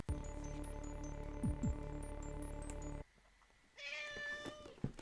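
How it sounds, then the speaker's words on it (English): A cat lets out a short, clear meow over a steady background hum and chirping, then the hum drops away and a few soft sounds follow. "I love when you do that little meow, meow, meow."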